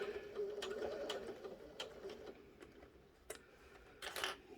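A sewing machine runs short back-stitch bursts while sewing a lip balm pouch, each quick mechanical rattle separated by brief pauses, faint and close, with no voices.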